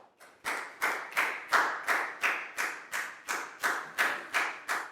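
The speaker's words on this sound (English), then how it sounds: "Big round of applause for Dan" Applause for a student presenter in a children's maths lesson: about a dozen evenly spaced, separate claps in a slow steady rhythm, each sharp and close, ringing briefly before the next.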